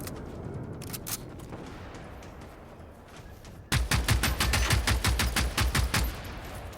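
A robot's .50 cal machine gun firing in the video game Generation Zero: after quieter background action, a loud, rapid, even burst of heavy shots rattles continuously for about three seconds.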